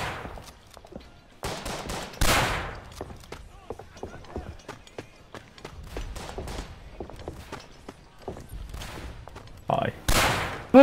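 Gunfire rings out in several sharp bursts among lighter clattering and rustling, with loud cracks near the start and end and quieter pops between them.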